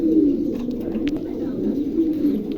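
A pair of Lakka pigeons coo close by in repeated low, rolling calls, with a faint sharp click in the middle.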